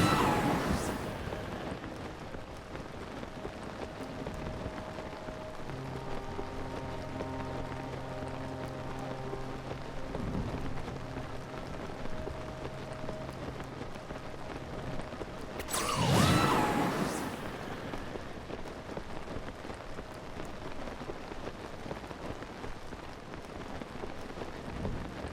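Steady rain patters on surfaces in a Zelda: Tears of the Kingdom thunderstorm, with a sharp thunderclap rolling in near the end; low tones hum quietly underneath.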